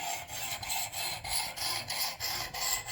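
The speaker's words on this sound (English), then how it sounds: "I think that hand sharpening is the way to go." A knife is hand-sharpened on a stone with repeated back-and-forth strokes, each a rasping scrape in an even rhythm of roughly eight passes, close and clear with no talking.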